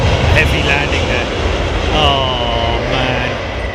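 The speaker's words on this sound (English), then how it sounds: "I think I might have missed a bit of a heavy landing there" Airliner landing in a crosswind at London Heathrow Airport, a loud steady jet roar with whining engine tones, heard close throughout with a voice talking over it.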